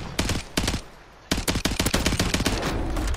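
Gunfire in a video game, several sharp close shots in quick succession, then a short gap and a denser rapid string of cracks.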